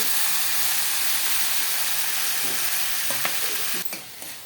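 Okra and tomato frying in a pan: a loud, dense, steady sizzle and hiss, with a few scraping stirring strokes near the end as the sound briefly dips.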